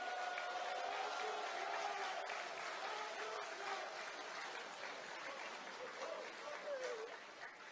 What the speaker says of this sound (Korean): 다시 환영의 박수 한번 해주십시오